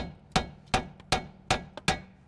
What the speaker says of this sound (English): We can just hit on the stud from the bottom because we're replacing it